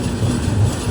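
The Devagiri Express rumbles steadily as it rolls into Chhatrapati Sambhajinagar station, a low continuous train noise heard from on board for a brief moment.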